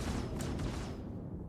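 Distortion cannons in a space-combat video game fire repeatedly at a ship near its power plant, a dense continuous stream of rumbling bursts.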